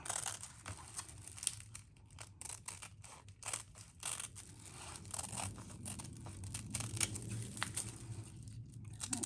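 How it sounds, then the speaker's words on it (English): Scissors snip through a paper sticker sheet, followed by the papery crinkle and rip of the backing being peeled away, a series of close, crisp irregular cuts and rustles heard alone at low volume. "Cut that off at the end, and then this comes off, this top part, and now it's a sticker."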